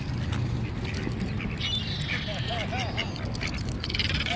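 Muscovy ducks quack in short curving calls through the middle of the clip, heard over a steady outdoor rumble and under nearby voices talking.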